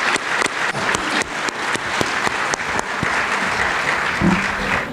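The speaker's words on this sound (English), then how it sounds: "If we can give them a round of applause." An audience applauds loudly, with dense clapping and a few sharp distinct claps near the start, continuing evenly throughout.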